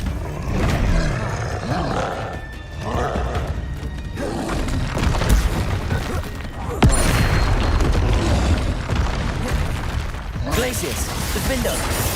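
Spell combat in Hogwarts Legacy with a Bombarda explosion: heavy booming blasts and roaring rumbles over continuous loud action noise, one sharp impact standing out midway.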